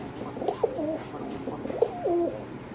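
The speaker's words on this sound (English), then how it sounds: "But he's a male pigeon." A male pigeon coos twice in close succession, each a soft, rolling low call with a throaty rise and fall, near and clear against faint room background with no talk.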